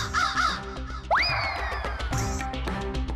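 A crow caws loudly several times in quick succession, harsh and nasal, with a rising whistle-like tone in the middle.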